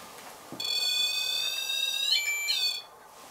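A ghost-hunting detector box resting on a bed sets off a loud, steady electronic alarm tone that starts abruptly, holds for about two seconds, briefly changes pitch, then resumes before cutting off.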